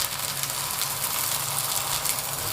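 A flatbread pancake sizzles steadily in an oiled pan just after being flipped over, a dense, even frying hiss with no voices.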